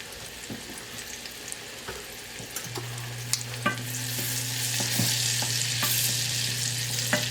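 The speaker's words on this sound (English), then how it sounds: "Once the butter is sizzling and bubbling, add the shallot." Butter and shallot sizzle steadily in a pan, the butter already bubbling, with a low constant hum and scattered clicks from stirring; no one speaks.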